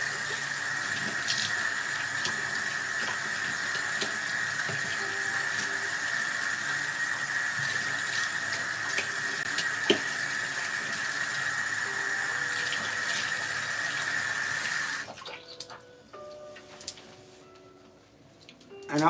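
Tap water runs steadily from a bathroom sink faucet during a face rinse, a loud continuous hiss for about fifteen seconds, then the flow cuts off, leaving quieter handling sounds and splashes.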